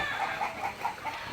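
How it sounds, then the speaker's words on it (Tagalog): Chickens at a neighboring chicken farm cluck in a quick series of short calls, a few each second, steady and moderately near, with no talk over them. "Gawa po na may manukan po doon sa kabila."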